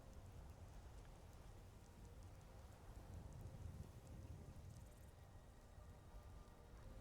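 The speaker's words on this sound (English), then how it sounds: "I wish it wasn't so rainy out for this." Steady, faint rain in the Skyrim game world near the Throat of the World, a continuous soft hiss with no talking.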